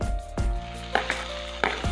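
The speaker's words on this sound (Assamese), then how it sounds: "এতিয়া মই ইয়াতে কুচিয়াখিনি দি দিম।" Pieces of kuchia eel frying in spice masala in a pan, with a soft continuous sizzle and a few scraping stirs and clinks up close, no voices.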